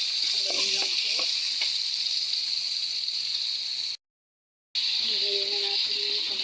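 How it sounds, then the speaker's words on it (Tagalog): Onion and ginger sizzle steadily in a hot frying pan while being stirred, a close, bright hiss with occasional scraping stirs and a brief break before the frying resumes. "nilagyan na natin yung sibuyas at luya. Haloyin lang po."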